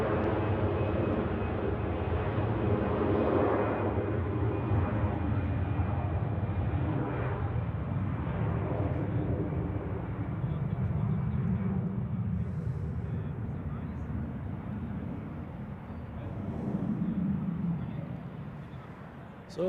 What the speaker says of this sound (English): Aer Lingus spooling up on runway 28